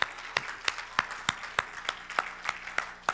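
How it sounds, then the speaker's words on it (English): A church congregation claps in a steady, even rhythm, with sharp claps roughly three per second, close and clear and with no voices over them. "Come on and clap your hands and give God some praise."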